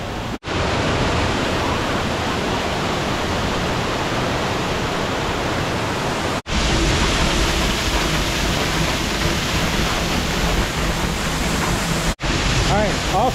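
Loud, steady roar of rushing water, dense and continuous, interrupted by a couple of abrupt cuts.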